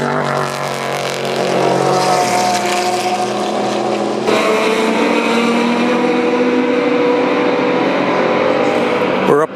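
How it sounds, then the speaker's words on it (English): Roaring race car engines fill the clip at the 2013 24 Hours of Le Mans on the Mulsanne Straight, loud and continuous, with a sudden shift partway through as another car speeds past. "as the cars go down the famous Mulsanne Straight"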